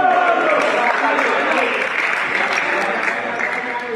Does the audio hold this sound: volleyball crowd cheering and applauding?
yes